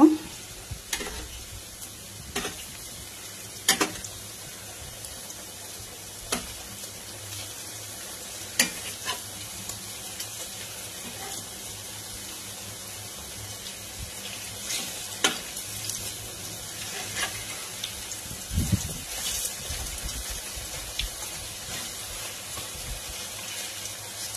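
Crispy fig pakoras frying in a pan, a soft steady sizzle with occasional spatula clicks and scrapes as they are turned over, plus a brief louder rustle near the end.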